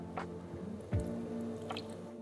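Water is poured into an electric egg cooker, a brief close-up splash and trickle with a few soft drips in a quiet kitchen.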